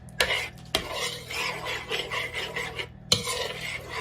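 An eggs and yogurt mixture being stirred in a bowl, a continuous close wet scraping swirl with three sharp utensil knocks against the bowl, no talk.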